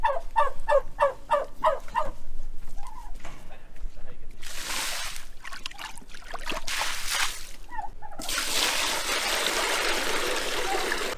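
Farm turkeys let out a burst of rapid, loud gobbling at close range, followed by quieter calls alongside bursts of running and splashing water as a trough is changed.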